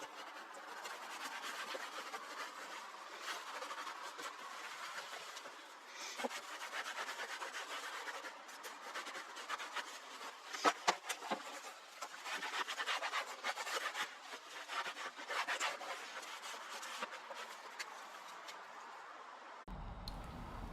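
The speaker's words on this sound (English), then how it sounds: "I'm using another clean microfiber to wipe away any excess" Clean microfiber cloth wiping excess balm off a BMW leather seat, with soft, continuous rubbing and faint scratchy strokes that are close but quiet and steady for about twenty seconds.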